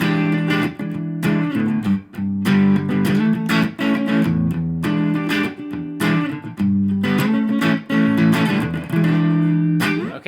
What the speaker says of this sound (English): So the main riff in standard tuning